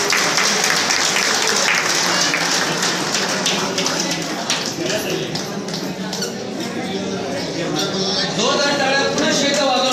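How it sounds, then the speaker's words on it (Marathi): A crowd at a veterans' association anniversary function in Pune applauds after a ceremonial lamp lighting, a dense, continuous patter of clapping mixed with voices talking and calling out over it. "सर्वांनी एकदा दीप प्रज्वलन झाल्यानंतर टाळ्यांचा गजर."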